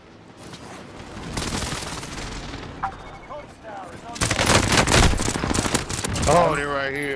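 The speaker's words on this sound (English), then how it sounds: "Enemy precision airstrike." Airstrike blasts and rapid gunfire from a PS5 shooter game fill the scene, the bursts building from scattered shots into dense, loud volleys with heavy booms, while a voice chimes in briefly near the end.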